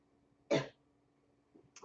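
A single sharp cough close to the microphone, followed by a softer throat sound a moment later, in an otherwise quiet room.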